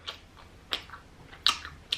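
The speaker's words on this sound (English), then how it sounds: "It has a really nice crunch to it." Close crunching bites into a crisp birria queso taco, a few sharp crackles spaced out between quieter chewing sounds.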